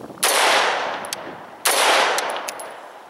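Two sharp, loud AR-15 rifle shots fired through a Battlecomp 1-inch muzzle brake compensator at an outdoor range, each a broadband crack with a decaying tail, spaced about one and a half seconds apart, with no talk.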